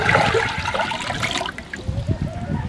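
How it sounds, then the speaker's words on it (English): Water is poured into a cooking pot for rice over a fire in a village kitchen, a splashing trickling rush for about a second and a half that then fades into lighter dribbling and clatter. "I'm going to add water to it"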